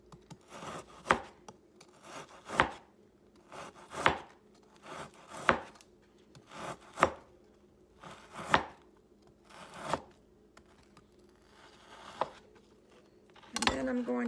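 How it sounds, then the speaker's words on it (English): A knife slices across a roll of frozen bacon on a board, about ten firm, evenly spaced chopping strokes, close and crisp, with quiet pauses between them. "I'm going to basically hold it and slice it across the roll of bacon like"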